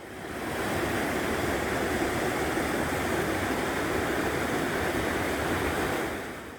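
Mountain valley stream water rushing steadily along a Gyeonggi-do trekking trail, a constant broad hiss of flowing water that fades in and out, moderately loud with no voices.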